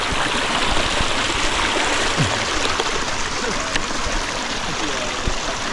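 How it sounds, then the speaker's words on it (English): A stream flowing outdoors, with a steady broadband rush of water that runs throughout at an even, fairly loud level, with faint splashy detail on top. "What are we saying about this stream then?"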